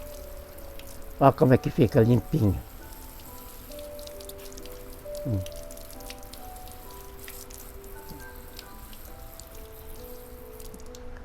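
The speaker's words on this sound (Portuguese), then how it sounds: "Então toda essa sujeira a gente usa jato d'água." A water jet rinsing dirt off slipper orchid roots, a soft hissing spray running quietly underneath while a voice speaks near the start, then a light watery patter continues alone.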